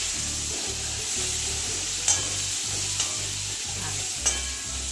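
Maize chevda with red chili, ginger, garlic and green chilies stirred in a hot pan, a steady scraping and sizzling with a few sharper spoon knocks against the metal, close and even throughout, no voices.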